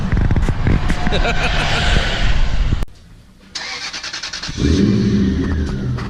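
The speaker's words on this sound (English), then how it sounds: "This is the sound of that Japanese domestic." A stock-looking Japanese domestic car engine roars loudly, cuts out briefly, then starts and revs up again, close by with some background noise.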